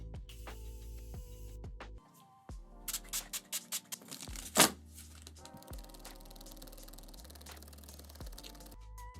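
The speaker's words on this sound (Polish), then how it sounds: "Setting spray." Makeup setting spray misted onto a face, heard as a quick burst of short pumped sprays followed by one longer hiss, close and fairly quiet amid faint background noise.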